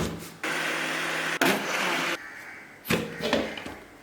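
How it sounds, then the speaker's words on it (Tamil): A mixer grinder blending soaked rice and whole black urad dal into dosa batter, loud whirring bursts that start and stop abruptly, close by, no voices. "அரிசியும் உளுந்தும் சேர்த்து பார்த்திங்கன்னா நம்ம நல்லா அரைச்சிட்டோங்க"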